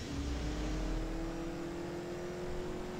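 A car engine from the mobile racing game CSR Racing revs on nitrous, giving a rising whine over a low, continuous engine roar that holds steady at moderate volume without speech.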